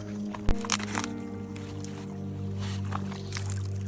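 Bare feet splash and slosh in the shallow edge of the Colorado River in the Grand Canyon, with a sharp splash followed by a few softer watery squishes over a steady low hum.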